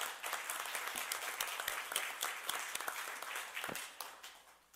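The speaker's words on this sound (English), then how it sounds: "give Kathy Emanuel a great big round of applause" An audience claps in dense, steady applause for Kathy Emanuel, loud and sustained, tapering slightly at the end.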